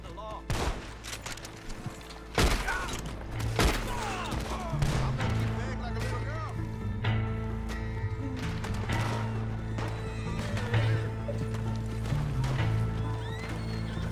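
Gunfire in the Roblox video game as riders are shot off horses, with sharp, loud shots in bursts over a steady game hum, accompanied by hoof clip-clop and occasional whinnies.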